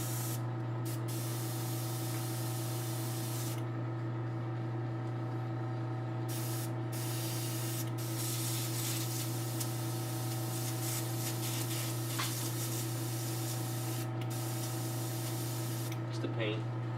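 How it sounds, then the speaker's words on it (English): A hobby airbrush sprays model paint in steady continuous hissing bursts over a constant low compressor hum, with short pauses between passes; someone talks intermittently. "Is the airbrush clogged on me,"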